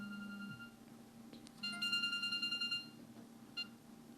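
A mobile phone rings with an electronic ringtone, a quick run of repeated melodic beeps in a quiet room after a low hum shifts, then a short extra chirp.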